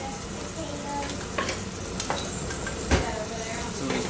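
Sirloin steak searing in a hot pan, giving a steady, close, loud sizzle with a few sharp pops and spits scattered through it.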